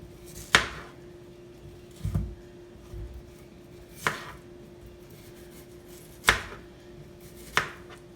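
A knife chops through yellow yam on a cutting board in a home kitchen, with five or six sharp, separate cuts spaced a second or two apart, close and fairly loud against a quiet background.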